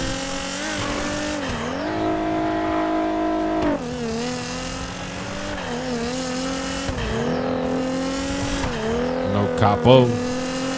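A Nissan GT-R in GTA 5 roars through gear changes with rising and falling engine pitch and brief tire squeal, close and loud, while someone talks over it.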